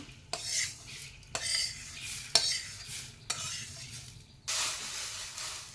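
Dry mung dal is stirred and toasted in a metal pan, with repeated scraping sweeps of a spatula, a few sharp clinks, and a soft underlying hiss, close up.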